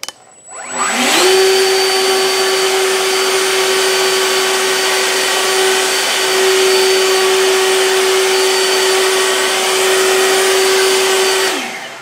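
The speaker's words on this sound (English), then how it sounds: "Now my setting here is all the way up, but without the turbo. So that is where I'm blowing at" EGO 56V 7.5Ah backpack leaf blower run at full setting without turbo, spooling up quickly into a loud, steady, close whine and rushing roar that holds for about ten seconds, then winds down at the end.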